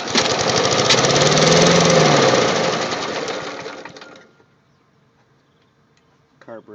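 A Snapper Hi-Vac self-propelled electric-start lawnmower running on old gas roars loudly up close for about four seconds, then winds down to near silence, with a few faint clicks at the end.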